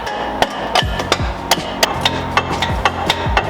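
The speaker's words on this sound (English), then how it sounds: "Okay, I need a hammer." Repeated sharp metallic hammer strikes on a Genesis Coupe car part during a turbo install, about a dozen blows in an uneven rhythm, close and fairly loud, with no talking.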